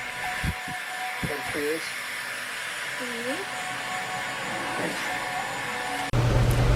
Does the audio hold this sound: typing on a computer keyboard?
no